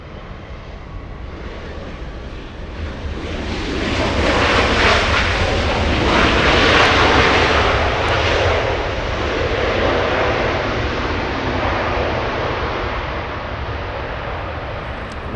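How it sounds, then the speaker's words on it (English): A WestJet airliner takes off from runway 24 left at Los Angeles International Airport, its jet engines a loud broadband roar that swells to a peak and then slowly eases off as it climbs away. "WestJet departing on 24 left."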